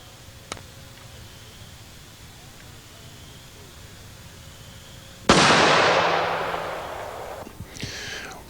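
A Kimber 1911 pistol fires one sharp, loud shot with a long, fading echo. A much fainter pop comes earlier, over quiet outdoor background.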